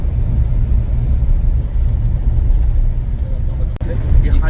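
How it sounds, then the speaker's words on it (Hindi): A car grinding slowly over wet, slippery mud on a rough track, its engine a steady low rumble with tires churning, close and continuous for a few seconds. "ये इस गीली मिट्टी पे गाड़ी स्लिप हो रही है।"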